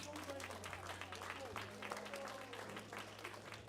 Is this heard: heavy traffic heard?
no